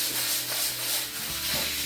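Continuous close rubbing as deglosser wipes are scrubbed over pieces of a metal tier tray, a steady hissing, scratchy friction that swells and eases with each stroke, with no voices.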